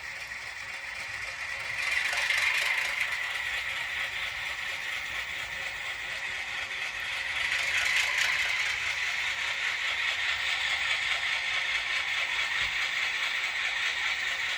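A Piko army model locomotive runs on track with a light continuous mechanical rattle and whir, swelling louder twice as it passes nearby, fairly quiet with no voices.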